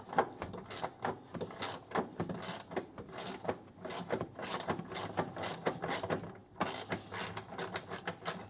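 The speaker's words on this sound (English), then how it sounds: "See, this one has a ratcheting head." A ratcheting wrench with a ratcheting head is worked steadily in a garage on a Dodge Coronet crew cab, producing rapid, close, repeated clicking bursts stroke after stroke for several seconds, with no talk.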